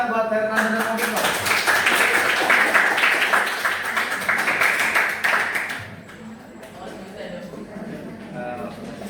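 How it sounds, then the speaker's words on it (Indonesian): An audience applauds for Fernanda and Mopik at an Islamic religious education class presentation, a steady patter of clapping lasting several seconds before it fades, with a voice speaking over the start. "Silakan tepuk tangan buat Fernanda dan Mopik"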